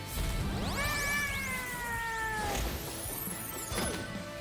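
A magical cat meows in the rhythm-action video game Hi-Fi Rush, its cry rising and sliding over a dense bed of swooshing game effects and music, moderately loud with no talk.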